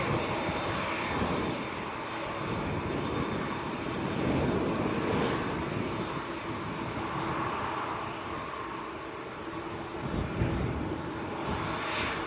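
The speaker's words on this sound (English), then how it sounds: "TUI Dreamliner. Just ready to line up." A TUI Boeing Dreamliner lining up at Manchester Airport hums with a steady, broad jet engine whine at moderate distance, a continuous rumble without speech.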